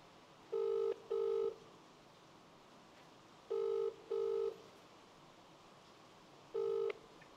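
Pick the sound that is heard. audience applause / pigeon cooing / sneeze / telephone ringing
telephone ringing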